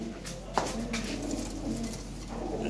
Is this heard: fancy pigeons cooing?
yes